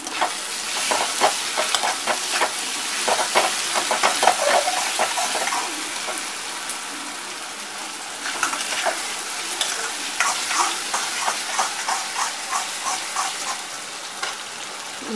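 Raw mango pieces sauté in oil for pickle with a constant close sizzle and frequent scraping and clacking of a spoon stirring through the pan, going on at length without any talking.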